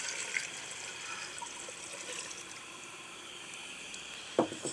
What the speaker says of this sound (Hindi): 1 जग भर के इसके अंदर हमने डाल देना है पानी का